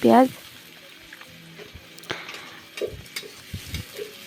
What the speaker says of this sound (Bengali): পেঁয়াজটা এবার ভালো মতন আমরা ভেজে নিব।